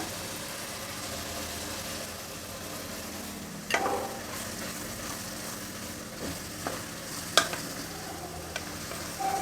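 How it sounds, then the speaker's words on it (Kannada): Spice powders mixed into yogurt go into a hot pan for vegetable biryani, giving a faint, steady sizzle with a few soft scrapes and clinks of stirring, close by with no talk. "ಈಗ ಮೊಸರಿನಲ್ಲಿ ಕಲಸಿಟ್ಕೊಂಡಿರೋ ಪುಡಿಗಳನ್ನು ಸೇರಿಸ್ತಾ ಇದ್ದೀನಿ ಮಿಶ್ರಣ"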